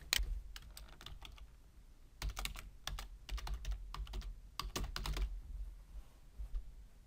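Keystrokes on a computer keyboard entering a name into a software form, in quick irregular bursts separated by short pauses, close and moderately quiet over a faint background hum, with no one talking.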